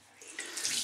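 Water runs steadily from a sink tap while rinsing shaving foam off after a wet shave, a short, close hiss that swells louder toward the end, with no voices.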